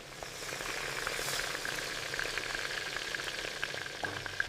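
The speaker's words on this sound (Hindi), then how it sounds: "सबसे पहले चिकन को तेज़ आंच पर अच्छी तरह भून लें।" Chicken pieces frying over a high flame for karahi, a steady dense sizzle with crackling pops running throughout, close and fairly even in loudness.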